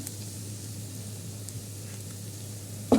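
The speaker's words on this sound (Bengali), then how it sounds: "আলু ভাজি করতেছি" Potatoes fry in a pan for alu bhaji with a steady, soft sizzle over a low hum, and a brief clatter sounds near the end.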